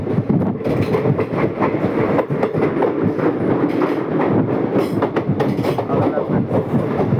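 The Tirupati Express runs on its rails with a loud continuous rumble and rhythmic clickety-clack from inside a carriage, with a brief word spoken.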